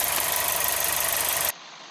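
A 2017 Volkswagen Jetta with a P0343 cam sensor fault runs at a steady idle with a rough, rapid pulsing. The engine sound cuts off abruptly after about one and a half seconds, leaving only faint background noise.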